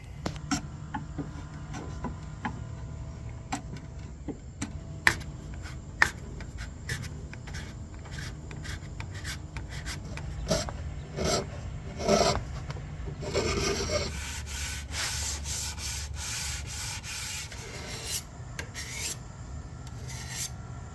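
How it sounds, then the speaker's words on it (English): Sandpaper rubbed by hand over a wooden cabinet base, working into corners and cracks: a steady close rasping scrape with repeated strokes and a few sharp knocks, no talk. "wrap sandpaper around it and you can get in different areas and cracks"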